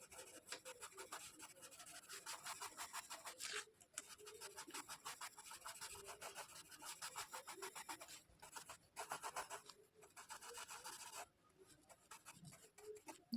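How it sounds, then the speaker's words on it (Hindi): A short brush applies charcoal powder across pencil sketch paper while shading an eye drawing: soft, close, scratchy rubbing strokes repeat steadily, broken by a few brief pauses. "ब्रश से पाउडर लेंगे, शॉर्ट ब्रश से, और हम अप्लाई करेंगे इस पार्ट में।"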